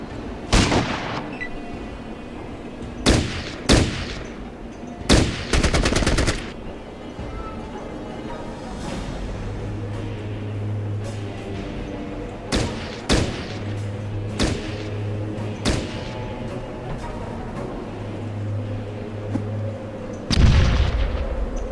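Shotgun blasts and explosions in the video game Fallout Tactics, a Kansas City mission, come as sharp, loud booms spaced irregularly apart, with a low humming tone in the gaps between them.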